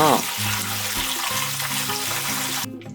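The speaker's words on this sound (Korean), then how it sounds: "거품이 나면 흐르는 물에 헹궈주세요" Oysters rinsed under a running kitchen tap, with a steady splashing water stream and some handling, ending abruptly.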